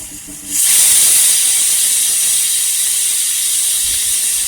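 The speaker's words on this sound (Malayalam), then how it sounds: "ഇപ്പോൾ ഇവിടെ ഒരു വിസിലൊക്കെ അടിച്ചിട്ടുണ്ട്" A pressure cooker holding prawns and pumpkin lets go of its whistle: after a brief quiet start, a loud, steady, close hiss of escaping steam bursts in and holds for several seconds, with no talk over it.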